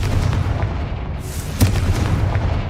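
A Confringo fire-blast spell exploding in the video game Hogwarts Legacy, one loud booming burst standing out over a continuous rumbling bed of battle noise, with no voices.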